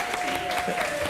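Audience applause from a television studio crowd, a steady dense patter of many hands clapping close by over the whole short stretch, with a faint voice mixed in.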